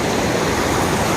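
Stream water rushes in a steady, dense wash that stays close and loud throughout, with no voices over it.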